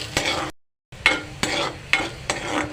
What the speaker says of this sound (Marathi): स्लो गॅसवर हा आलं आणि लसूण चांगलं भाजा थोडं लालसर होऊ दे